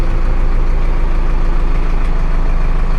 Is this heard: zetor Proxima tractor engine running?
yes